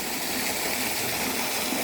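A waterfall roars as a continuous, even broadband rush of falling water, fairly close and steady, with no voices over it.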